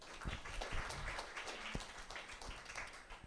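Quiet audience applause at a true-stories gathering in the Florentin neighborhood, a soft, continuous patter of clapping hands with a few sharper claps standing out.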